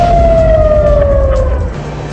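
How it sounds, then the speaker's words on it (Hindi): Air raid alert sirens wail at a port through the night, one steady tone slowly sliding downward and holding loud and close throughout, with a low rumble underneath. "अलर्ट सायरन बजते रहे।"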